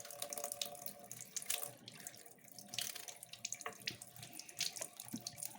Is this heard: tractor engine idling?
no